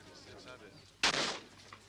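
A single sharp shotgun blast at clay targets during a team clay-shooting championship match at Gleneagles, loud and close, with a short ringing decay over quiet outdoor background.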